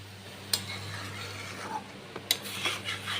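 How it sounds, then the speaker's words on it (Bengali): A spoon stirs vegetables for shukto in a pot after boiled water is added, with soft scraping and two sharp metallic clinks against the pot, close and fairly quiet. "সেদ্ধ জলটা দিয়ে ভালো করে নেড়ে চেড়ে নিতে হবে"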